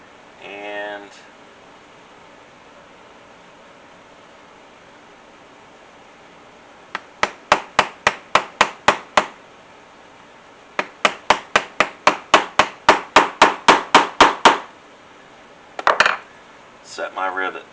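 Rivet setter hammered to set a rivet in leather chaps: two quick bursts of sharp metallic taps, then a few more strikes, close and loud against near silence.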